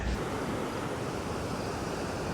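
Water rushes over a dam spillway and fish ladder, a steady, broadband roar of falling water heard close and loud, unbroken for the whole stretch with no talk.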